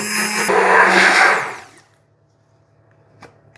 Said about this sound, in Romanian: Pun zahărul aici și continui să fac cu blenderul.